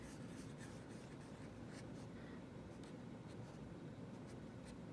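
Pencil or marker drawing a tree on paper, a steady soft scratching and rubbing close up with faint strokes, alone with no talk.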